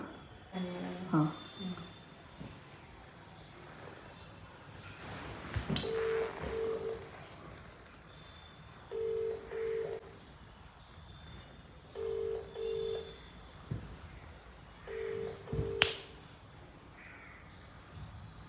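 A phone ringback tone sounds in four evenly spaced double pulses after some dialing beeps, fairly quiet with background noise and brief voices.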